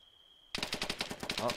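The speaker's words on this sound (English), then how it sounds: "Wait, there we go, shots." Rapid automatic gunfire in ArmA III, heard in a battle royale match: a dense burst of repeated shots fired close, the sharp cracks coming in quick succession after a brief steady tone.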